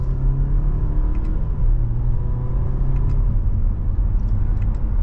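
A 2025 Audi A4 Allroad engine accelerates steadily in dynamic mode under a loud, continuous road rumble, its pitch rising through smooth paddle-shifted gear changes, with no voices.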